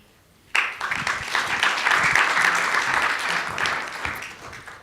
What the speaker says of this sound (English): let's give another round of applause for the good work that he's done and his panelists